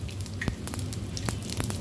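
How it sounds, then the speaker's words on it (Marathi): Cumin, mustard seeds and asafoetida sizzling in hot oil for a tempering, a steady soft frying hiss scattered with faint crackles and pops, without talk. "आपण त्यामध्ये ना पाव चमचा इथे मी जिरं घेतलेलं आहे आणि पाव चमचा मोहरी, त्याचबरोबर आपल्याला इथे हिंगाची फोडणी द्यायची आहे"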